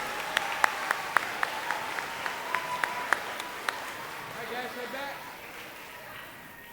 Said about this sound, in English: let's give our 3rd grade Wolfpack a round of applause